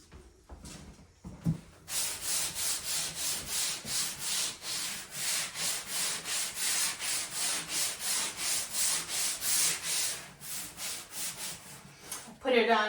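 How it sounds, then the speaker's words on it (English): Rhythmic hand sanding of thick paint, steady back-and-forth rasping strokes about two per second, close and loud, with brief knocks before and after. "Put it on kind of thick here, so it's taking some extra sanding"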